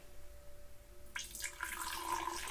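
Water poured into a detergent solution, starting abruptly after a quiet moment as a soft splashing, gurgling stream that continues close and steady to the end.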